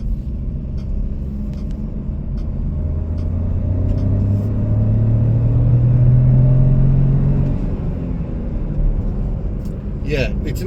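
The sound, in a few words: Jeep Avenger 3-cylinder PureTech petrol engine driving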